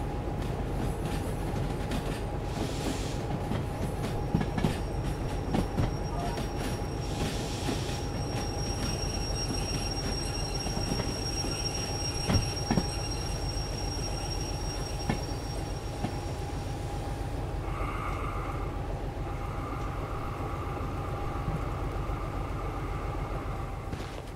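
Train running in the Train Simulator video game: a steady rumbling rail roll with clicks and sustained wheel-squeal tones above it, continuous and fairly close, with no talking.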